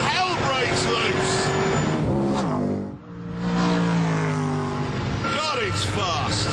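Ascari A10 engine climbing hard through the revs as the car accelerates, loud and close, with a short dip before it pulls again; someone talks over it throughout.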